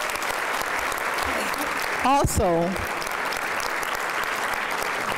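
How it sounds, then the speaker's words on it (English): Steady applause from the audience at the City of Tampa's annual Black History celebration, a continuous dense clapping wash, with someone briefly speaking over it partway through. "Let's give them a round of applause."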